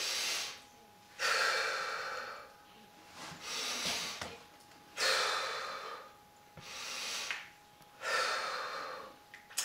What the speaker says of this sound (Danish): tager man en dyb indånding og slipper ved udånding